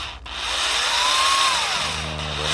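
A power drill bores holes during a 1960 GMC truck restoration, a continuous whining motor with the pitch rising and then sagging under load, loud and close, running without a break.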